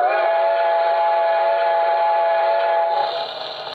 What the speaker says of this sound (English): Now I'm going to switch to the whistle that's one of the other options.